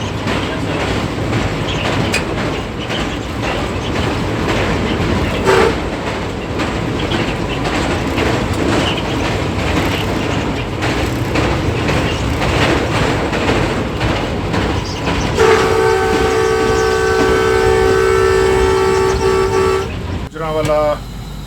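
The Green Line Express passenger train on the Rawalpindi to Lahore line in Pakistan rumbles loudly across the Chenab River bridge. Steady wheel and carriage noise builds until a long, sustained horn blast sounds near the end, with talk under it.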